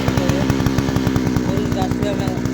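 A chainsaw running for cutting a tree, a loud close engine with a fast, steady pulsing rhythm, with a voice speaking over it.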